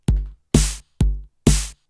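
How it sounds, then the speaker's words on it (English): An FL Studio drum pattern of kick drum with a snare on the second and fourth beats: four crisp, evenly spaced hits that alternate a deep thump with a bright, cracking snap, played alone. "Let's go ahead and add a snare to every second and fourth beat"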